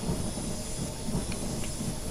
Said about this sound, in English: Oh, I can hear a train coming,